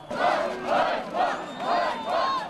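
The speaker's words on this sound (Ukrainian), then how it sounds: "розлючений і озброєний натовп сепаратистськими гаслами вже штурмує той таки райвідділок" Angry crowd shouting separatist slogans in unison during National Guard riot training, five loud rhythmic chants close by, each swelling and fading in turn.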